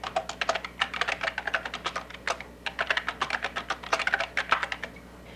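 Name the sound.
typing on a computer keyboard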